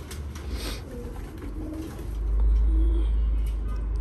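Pigeons at a bird market coo softly in low, repeated calls, fairly faint against a murmuring background, with a low rumble swelling in partway through.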